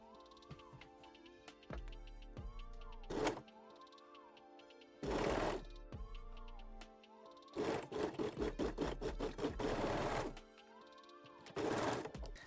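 A sewing machine stitches the side seam of lace-back Brazilian panties, in several short whirring bursts and one longer rattling run, separated by quiet pauses, with background music underneath.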